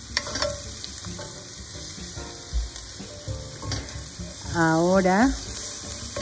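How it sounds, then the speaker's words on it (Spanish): Garlic sizzles in heated oil in a pan as the start of lentil burgers, a continuous close frying crackle with occasional stirring clinks and a short spoken word over it. "Vamos a dejar calentar un poco el aceite. Ya, ahora vamos a poner los ajos."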